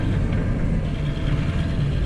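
A Case 580SL backhoe diesel engine idles in freezing cold weather, giving a steady, dense low rumble that runs unbroken and close for the whole stretch, with no voices.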